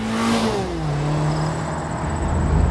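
A Mazda MX-5 Miata with an automatic transmission pulling away, its engine note climbing and then settling as it shifts, with steady road rumble from inside the car.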